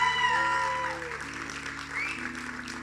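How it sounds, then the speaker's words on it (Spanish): Church congregation applauding at a Spanish-language worship service, with clapping layered over sustained organ or keyboard tones. The applause is moderate and continuous and tapers slightly toward the end. "dele un fuerte aplauso para el Señor"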